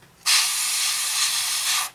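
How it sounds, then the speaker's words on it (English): An airbrush sprays Tamiya XF71 Cockpit Green model paint on a 1/48 Spitfire Mk.1 kit in one continuous, loud, close hiss that starts abruptly and stops after about a second and a half. "Start with a bit of spray,"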